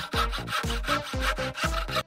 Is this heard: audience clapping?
no